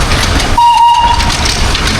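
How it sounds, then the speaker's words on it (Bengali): The Darjeeling Himalayan Railway toy train, hauled by a diesel engine, rumbles loudly close by while a steady whistle tone sounds partway through the passing. "এই হচ্ছে টয় ট্রেন"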